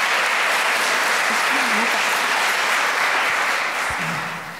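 Dense, loud audience applause after a film screening welcoming two guests, a continuous wash of clapping that holds steady and fades slightly at the end.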